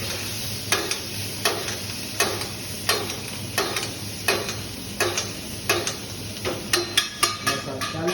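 Seared scallops cooking in a hot pan with butter and a splash of lemon juice, a steady sizzle punctuated by regular sharp taps and clinks roughly every second, close and fairly loud with no talking.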